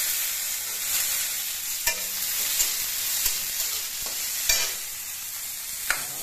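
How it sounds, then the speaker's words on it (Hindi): Cashews, ginger and garlic frying in hot oil for a methi matar malai curry, a steady bright sizzle throughout with a few sharp clacks of a spoon against the pan, close and without talk. "काजू डालने के बाद ये अदरक लहसुन इसको डाल देते हैं"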